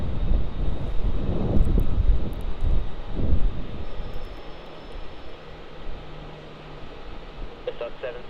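An airliner takes off from runway 16 at Melbourne Airport, a broad engine roar swelling then easing into a distant rumble, with radio voices heard faintly alongside.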